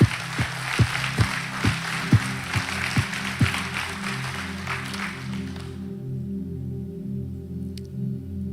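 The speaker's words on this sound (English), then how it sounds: "Can we just give another applause for what Jesus is doing inside of people?" A church congregation applauds during a Sunday morning service, a broad wash of clapping with occasional sharper hits that fills the first six seconds and then stops abruptly, leaving a low hum.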